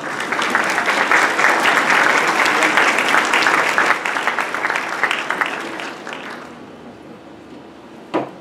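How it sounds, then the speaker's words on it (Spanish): Audience clapping at an academic event for a university fisheries faculty's 50th anniversary, loud and sustained for several seconds before tapering off, then a single sharp knock near the end. "Un aplauso, por favor."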